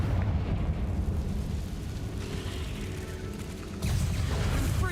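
A fiery Confringo spell bursts in a video game with a rumbling, sustained explosive roar, followed by a fresh louder blast near the end, and no voices.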